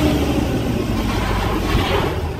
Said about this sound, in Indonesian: Ini mobil Volvo guys,